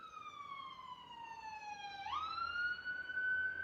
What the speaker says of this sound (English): Ambo is ambulance.